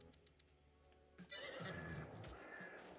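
Horses whinny in Farming Simulator, a loud drawn-out neigh rising after a few quick hoof-like knocks, heard alone without talk.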